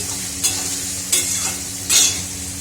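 Potatoes fry in a pan, a constant close sizzle broken by three distinct scraping stir strokes about every three quarters of a second.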